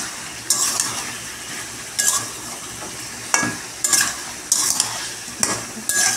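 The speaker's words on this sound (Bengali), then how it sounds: "মাংস কষছি, এই দেখো" Meat sautés in a pan with onion, garlic, green chili, turmeric and cumin powder, a constant sizzle broken by repeated sharp metallic spatula scrapes against the pan at irregular intervals.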